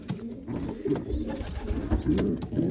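Pigeons coo steadily and close by in a breeding loft, soft throaty rolling calls overlapping one another with no talking.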